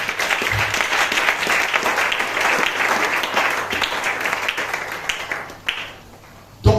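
A church congregation breaks into sustained, loud applause that fills the room, dense and steady before thinning out near the end.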